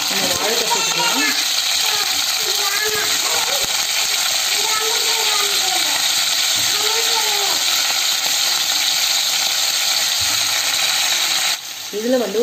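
Raw banana sizzles in oil with curry leaves in a home kitchen pan, making a loud continuous frying hiss while someone talks over it intermittently.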